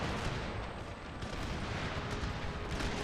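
Artillery batteries firing on a fortress wall in the game Empire: Total War, a dense, continuous rumble of cannon fire and booms that stays loud and steady throughout with no pauses.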